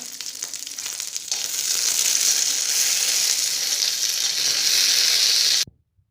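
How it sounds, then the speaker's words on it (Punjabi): Fox nuts (makhana) roasting in a spoonful of ghee in a wok: a steady, loud, hissing sizzle that swells after a quieter start and cuts off abruptly near the end, with no voices. "ਇੱਕ ਚਮਚ ਜਿਹੜਾ ਘਿਓ ਦਾ ਪਾ ਕੇ ਇਹਨਾਂ ਨੂੰ ਚੰਗੀ ਤਰ੍ਹਾਂ ਭੁੰਨ ਲੈਣਾਗਾ"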